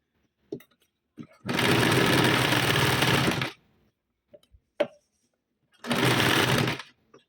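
A sewing machine stitching a double seam on a blouse sleeve: two bursts of steady, fast mechanical whirring, about two seconds and one second long, separated by quiet handling clicks, close and without talk.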